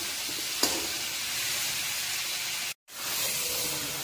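African lungfish, braised with tomato in a local style, fries in a pan with a steady, soft hiss and one small crackle. The sound cuts out briefly near the end.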